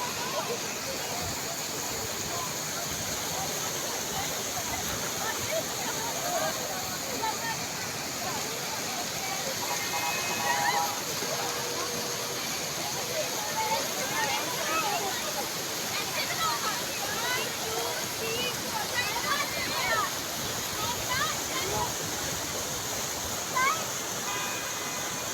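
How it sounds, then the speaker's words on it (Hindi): Cold glacial meltwater stream in the Naran Kaghan valley rushing steadily as a loud, constant roar of water throughout, with faint voices now and then beneath it. "चेक करें पानी की आवाज़"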